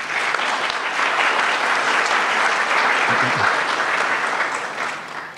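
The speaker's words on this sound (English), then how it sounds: "I'm going to ask you to give a special round of applause" A seated audience at an API Programme ceremony gives a sustained round of applause for Mrs. Eula Adams, Director and Administrative Coordinator. The clapping is loud, dense and steady, with no talk over it, and it tapers off at the end.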